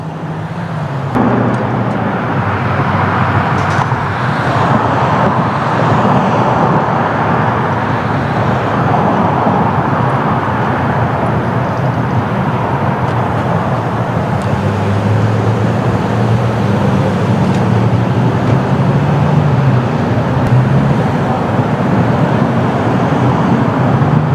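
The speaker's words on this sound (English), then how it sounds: "we're on a corner of a couple busy roads, so should have plenty of traffic here today" Traffic at a corner of busy roads, a continuous loud wash of passing cars and engine rumble with a heavier vehicle noise building in the middle, no talking.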